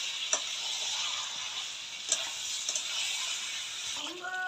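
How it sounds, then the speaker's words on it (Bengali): Chicken pieces coated in spices sizzle in a hot pan, a soft continuous frying hiss broken by a few sharp clinks and scrapes of a spatula stirring, fairly quiet and close, with no one speaking. "এই যে মা এখন চিকেন কষাচ্ছে মশলা দিয়ে।"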